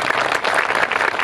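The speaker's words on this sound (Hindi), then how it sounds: "आखिर में आप अरविंद गौर जी के लिए तालियां बजा दीजिए" Theatre audience applauding after a stage play at a literary festival, a dense, steady wash of many hands clapping close and loud throughout.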